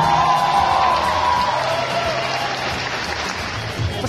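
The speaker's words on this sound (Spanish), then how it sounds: "Aplauso para Martín Vaca." An audience in Orizaba, Mexico gives steady, sustained applause with cheers and whoops for a guest at a public appearance and autograph signing; the sound is full and continuous, fading slightly toward the end.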